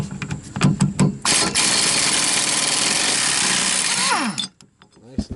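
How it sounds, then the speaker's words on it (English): A pneumatic air impact gun with a socket removes rear brake bolts on an SRT4: a loud, sustained hammering rattle for about three seconds, with short clanks and a voice before and after. "since I have an air gun, I'm going to use a socket"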